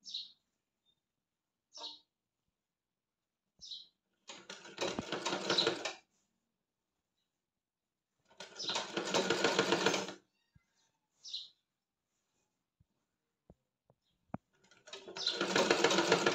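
A sewing machine stitches pleats on patiala pants in three short, buzzing runs of about two seconds each, separated by silences. Brief faint chirps and small clicks fall between the runs, all close and quiet.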